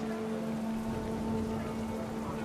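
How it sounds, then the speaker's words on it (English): Rain starting in the video game What Remains of Edith Finch, a steady, even patter with a low continuous hum beneath it. "It started to rain."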